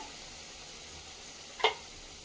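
Mutton cooking in a pan for a village-style mutton jhol, a soft, steady sizzle with one brief utensil clink near the end.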